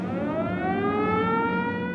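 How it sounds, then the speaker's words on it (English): The University of Washington Husky siren wails in a loud, steady rising tone, its harmonic howl sweeping slowly upward and sounding continuously without any talk. "The siren is hands down the most beautiful sound any Husky fan will ever hear."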